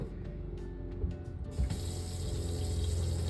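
A kitchen faucet in an RV sink opens at about one and a half seconds, and a steady stream of running water follows, loud and close under a low background hum.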